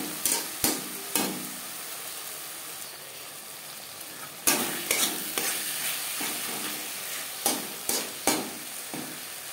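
Ginger and green chili paste frying for a Bengali fish curry, stirred with a spoon in a pan: a steady soft sizzle broken by sharp scraping clacks in small bursts, near and alone with no talk.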